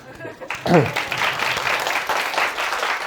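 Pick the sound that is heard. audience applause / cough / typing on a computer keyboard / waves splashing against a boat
audience applause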